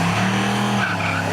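A 2002 Chevy Corvette and a red Chevy truck launch side by side at a spectator drag race at Seekonk Speedway, a loud, steady, close engine roar with tire noise that holds throughout, no voices.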